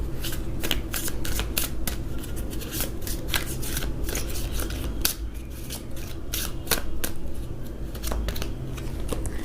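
Tarot cards being shuffled and drawn for a career reading, a steady run of quick papery riffles and flicks repeating throughout at close range with no talk.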